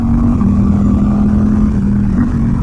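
A Suzuki GSX-8R motorcycle fitted with a full exhaust runs in a close, loud, fairly steady drone, with brief small blips in pitch near the start and end.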